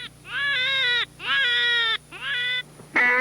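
A hunter blows a call imitating a coyote, producing three or four drawn-out, wavering tonal wails in quick succession, loud and close over a faint hum.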